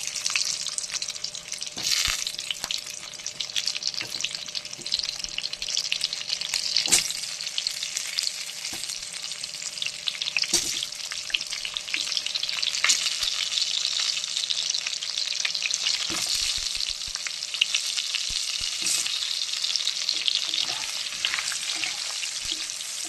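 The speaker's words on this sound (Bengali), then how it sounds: "আলু আমি একে একে ভেজে নেব।" Potato pieces frying one by one in oil for a Bengali dalna, giving a steady close sizzle with occasional stirring clinks and scrapes throughout, no voices.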